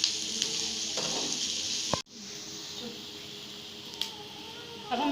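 Chopped onions fry in oil in a pan with an even, close hiss that breaks off sharply once, then returns a little quieter, with faint stirring scrapes and no talk.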